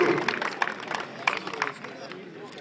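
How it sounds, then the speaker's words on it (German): Small crowd at a motor race event clapping for the third-place driver in Division 2, Group E, a light patter of hands rising and fading with murmuring voices and chatter around it. "kleiner Applaus für den dritten Platz in der Division 2 Gruppe E"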